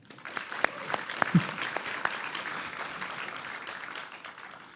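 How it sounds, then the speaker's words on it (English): Audience applause at the 31st Annual Emerald Awards ceremony, a steady wash of many hands clapping in a large room, holding fairly even for several seconds with a few sharper claps standing out early on. "Let's give it a round of applause for them one more time."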